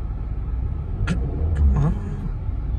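A car driven slowly with the clutch held fully down, its engine giving a steady close low rumble throughout, with a few brief higher noises rising over it.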